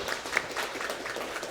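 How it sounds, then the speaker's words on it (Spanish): A church congregation claps in praise to God after a prayer, a brief burst of dense applause at moderate volume filling the room without speech. "Podemos dar un aplauso a nuestro Dios."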